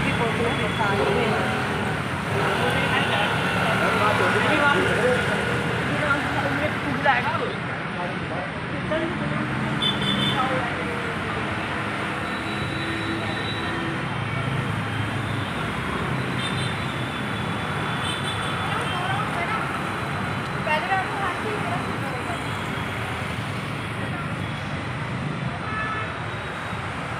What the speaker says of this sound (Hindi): ये नोएडा का 55 सेक्टर है, तो यहाँ पे मैं आपको दिखाती हूँ कितना ट्रैफिक हो जाता है शाम को 5:30 बजे